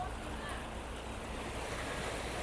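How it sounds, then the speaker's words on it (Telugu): Sea waves hit the seawall at the Esplanade heritage walk in George Town, Penang, making a steady, faint wash of surf with wind noise throughout and no distinct individual crash. "ఇదిగో ఇలా వాటర్ వచ్చి ఇలా కొడతంటే"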